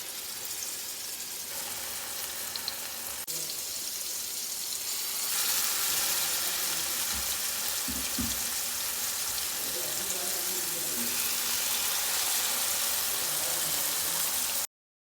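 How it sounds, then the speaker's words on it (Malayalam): Masala-coated fish sliding into hot coconut oil, a low sizzle that swells into a loud steady crackle partway through, with a few faint knocks of utensils. "കുറച്ചും കൂടി മസാലയൊക്കെ നല്ലോണം തേച്ച് സെറ്റ് ചെയ്തിട്ട് വറുക്കാം"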